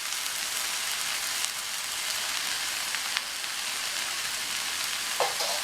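Drumstick leaves (murungai keerai) sautéing uncovered in an open pan, giving a steady, soft frying sizzle throughout with a few faint stirring clicks near the end, no voices.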